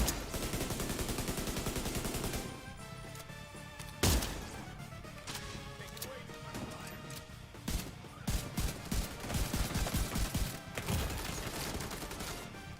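Gunfire in a shooter video game bursts loud and close in rapid automatic volleys, with a sharp crack and pauses between bursts.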